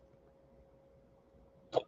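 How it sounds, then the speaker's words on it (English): A single sharp hiccup pops out near the end after a quiet stretch with a faint steady hum underneath. "I have the hiccups today."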